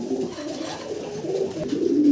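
Blue-bar pigeons coo in a continuous, overlapping murmur at a dealer's loft, the rolling calls growing slightly louder toward the end, with no talking.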